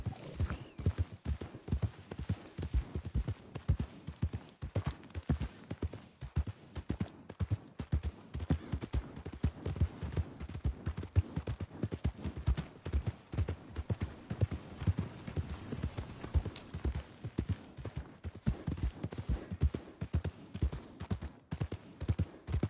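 Steady clip-clopping of horse hooves in the video game Red Dead Redemption 2 trots along in a quick, even rhythm, fairly soft and continuous throughout.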